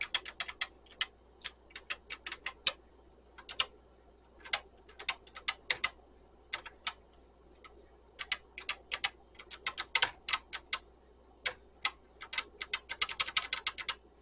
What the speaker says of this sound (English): Okay, so the keyboard is working. It doesn't give me any errors, but it's partially working. The keys are kind of sticky